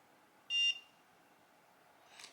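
A single short, bright electronic beep from a NuFace Trinity facial toning device rings out near the start, followed by quiet and a faint soft rustle near the end.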